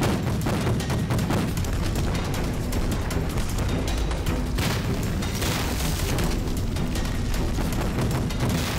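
Massed artillery cannons fire in a battle scene from a war film set in Changde, forming a loud, dense barrage of overlapping booms and blasts that rolls on continuously with no talking.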